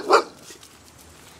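A dog barks once, loud and close, followed by faint background noise with no further barking.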